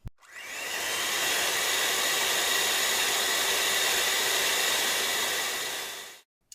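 A stand mixer fitted with its heavy dough beater runs steadily on gluten-free bread dough of eggs and flour, a loud even motor whir and hiss starting abruptly and cutting off after about six seconds, with no voices.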